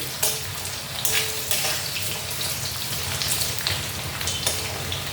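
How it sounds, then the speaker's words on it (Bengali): Potatoes sizzle and crackle steadily in a hot pan, with occasional louder spatters and stirring scrapes over the constant frying hiss. "আলুটা একটু ভাজা ভাজা হোক আগে।"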